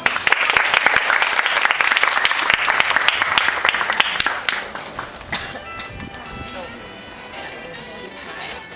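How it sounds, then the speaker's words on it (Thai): Applause welcoming the speaker's mother at a dinner, dense clapping for about four seconds that fades out, leaving a steady high cricket chirr in the background. "ขอเสียงปรบมือต้อนรับแม่โยมแม่ยาวครับ"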